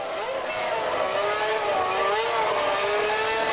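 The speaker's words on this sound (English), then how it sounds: "Here comes the first Ferrari in for a pit stop" A 1988 Ferrari Formula One car, driven by Gerhard Berger, comes into the pits at the Italian Grand Prix at Monza, its high engine whine rising and falling steadily at mid distance.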